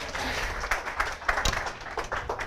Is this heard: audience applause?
yes